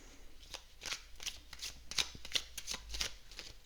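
Oracle cards are shuffled by hand in a close, quiet series of crisp riffling flicks and soft slaps, each burst repeating about twice a second.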